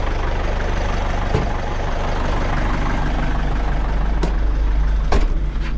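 A warm tractor engine idles steadily from inside the cab, a constant low rumble with a few faint clicks over it and nobody speaking.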